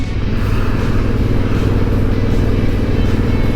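A Honda CRF1000L Adventure Sports motorcycle engine drones steadily up close, a rough continuous putter as the bike rides along a mountain trail.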